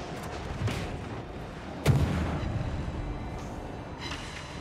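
Heavy warship guns boom in a World of Warships naval battle, a couple of sharp distant blasts standing out against a constant rumbling background of engine and sea noise.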